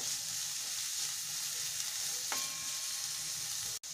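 Vegetables including tomato stir-frying in a pan for Maggi noodles, a loud, even, continuous close sizzle with a brief faint tonal clink partway through, then a momentary cut near the end.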